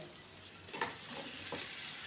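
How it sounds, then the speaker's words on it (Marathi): Cubed paneer sizzles softly in a pan while being stirred and turned, a low steady fry with a few scraping clicks from the spatula, close and quiet with no voices. "तर हे पनीर आता आपण 1 मिनिटभर असं व्यवस्थित असं परतून घेऊया"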